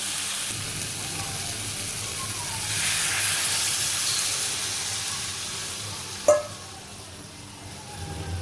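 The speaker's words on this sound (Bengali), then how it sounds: "এই যে কপির তরকারি আমার কষানো হয়েছে এখানে জলটা দিয়ে দিব মোটামুটি ভালো কষাইছি লাল লাল হয়েছে" Cauliflower curry stir-fried in a pan gives a steady close sizzle and hiss for the whole stretch, swelling slightly midway, with one brief sharp knock near the end.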